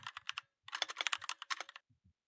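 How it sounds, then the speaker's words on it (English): Typing on a computer keyboard at a Windows command prompt, a quick run of crisp close keystrokes, a short pause, then a faster burst of clicks tapering to a few final taps, with no speech. "then type the folder name Backup"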